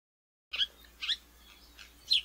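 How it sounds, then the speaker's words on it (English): House sparrow calling at a backyard feeder in New York: three short, bright chirps spaced about half a second apart, fairly faint and alone against a quiet low hum. "House sparrow."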